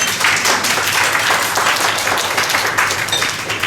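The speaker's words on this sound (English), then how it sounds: "So you are the home crowd, give yourself a clap." Wedding dinner guests applaud together, a dense, steady burst of clapping that fills the room for several seconds without letting up.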